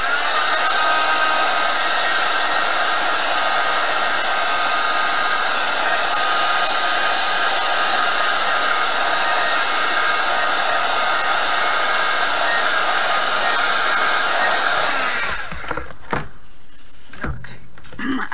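A handheld hair dryer drying paint on a canvas blows loud and steady for about fifteen seconds, then switches off, leaving a few faint handling knocks.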